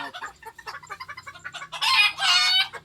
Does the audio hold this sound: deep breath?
no